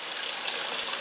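Dechlorinated water pouring into the reservoir of a DIY aeroponic pepper-growing system, a soft, steady gushing rush with no voices.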